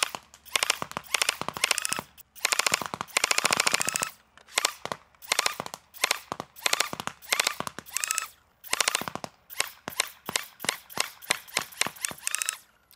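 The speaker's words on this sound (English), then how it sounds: "So we're gonna go ahead and just shoot a bunch of this on full auto," A modded 3D-printed Diana blaster with mag extensions and a screw-on suppressor fires full-auto bursts, loud rapid mechanical thumps in repeated strings with short pauses between bursts, no talking.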